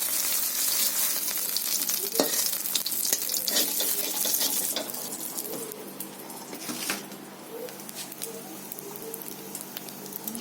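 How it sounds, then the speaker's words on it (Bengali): Oil heats and sizzles loudly in a kadai for a prawn recipe, a dense, continuous crackle with sharp spits and pops, easing to a softer hiss partway through; no one speaks. "কড়াইতে আমি তেল দিয়ে দিচ্ছি।"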